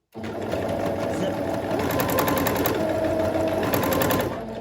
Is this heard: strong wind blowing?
no